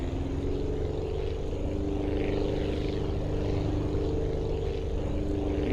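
A propeller airplane in the Aviassembly flying game drones with a steady buzzing engine hum that stays level throughout, moderately loud with no speech.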